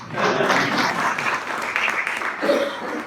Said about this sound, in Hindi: बीच बीच में आप तालियां बजा सकते हैं